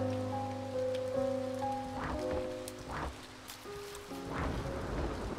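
Steady rain from the video game A Bird Story falls alone and fairly loud, with soft droplet patters over a dense wash and a low synth music bed.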